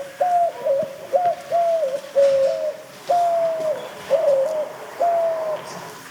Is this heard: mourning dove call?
yes